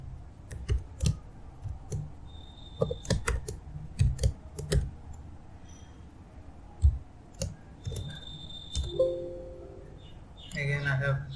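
Short bursts of clicking keystrokes on a computer keyboard, quiet and close, scattered in irregular runs with pauses between, while someone talks over them.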